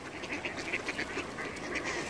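Ducks and drakes quack steadily at a river near a dam and suspension bridge, a continuous chorus of overlapping calls over a constant wash of water and outdoor noise.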